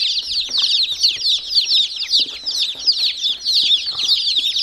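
Chickens in a coop cluck and chatter continuously, a busy overlapping chorus of close, moderately loud calls with no voices.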